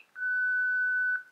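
An OrCam MyEye wearable assistive device sounds one steady electronic beep lasting about a second as a prompt to name a person, clear and close in a quiet room.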